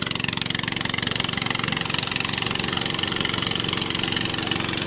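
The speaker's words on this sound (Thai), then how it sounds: "ใช้เรือหางยาวลากนะครับ" A steady, loud long-tail boat engine drones throughout with a rapid regular chug, close by and continuous, with no voices.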